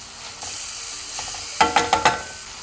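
Finely chopped onions stir in a hot pan, a steady sizzle with a few sharp scraping clicks of the utensil near the end.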